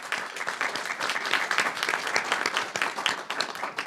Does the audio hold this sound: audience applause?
yes